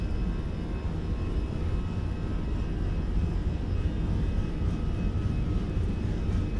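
Airbus A320 engines on a takeoff roll in Microsoft Flight Simulator 2020, a steady loud low roar with a faint high whine held evenly throughout.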